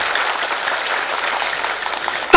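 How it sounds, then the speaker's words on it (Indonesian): A gathering at a religious talk on Sufi orders applauds, a continuous wash of many hands clapping at moderate distance, fairly even throughout, cut off by a sharp louder burst at the very end. "Tepuk tangan dulu buat semuanya"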